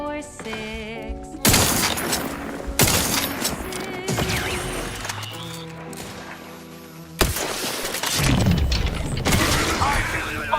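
Gunfire and mechanical clatter from a first-person shooter game, The Outer Worlds 2, heard as loud bursts that cut in sharply at intervals over a background of game music and effects.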